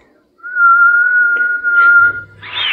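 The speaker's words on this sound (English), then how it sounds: "Match my whistling." A person whistles one steady, clear, fairly loud note for about two seconds, then a brief breathy sound follows.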